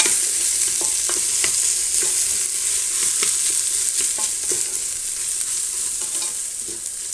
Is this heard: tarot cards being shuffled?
no